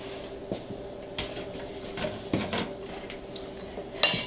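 Boiled, finely chopped sweet potatoes are moved from a pan into a bowl with a few soft, scattered clinks and scrapes of utensil on cookware. The sounds are close and quiet, with no talking.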